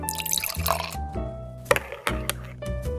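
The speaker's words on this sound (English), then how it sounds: "we're adding 40 grams of water at a temperature of 80 degrees Celsius to allow the coffee to bloom for 30 seconds" Hot water at 80 degrees Celsius is poured from close by onto coffee grounds in an AeroPress for the bloom, giving a trickling, splashing stream with a few soft drips.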